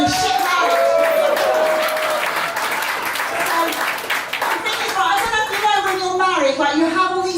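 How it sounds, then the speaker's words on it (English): Comedy club audience applauding and clapping steadily throughout, loud and close, with cheers and shouted voices rising over the clapping toward the end. "give me a better round of applause"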